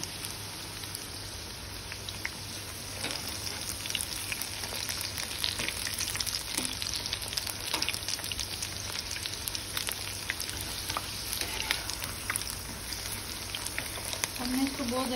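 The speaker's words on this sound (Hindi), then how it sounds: "हम इसको दोनों साइडों से अच्छे से फ्राई करेंगे और फिर निकाल लेंगे" Chicken pieces fry in hot oil until golden brown, producing a continuous crackling sizzle with dense popping that runs throughout at moderate, fairly even loudness.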